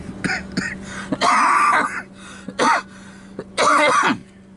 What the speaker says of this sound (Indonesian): agak batuk sedikit tapi bukan batuk corona ya